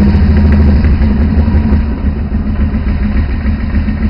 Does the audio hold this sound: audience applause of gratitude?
no